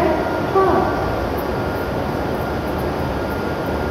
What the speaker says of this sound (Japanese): まもなく12番乗り場に列車が参ります。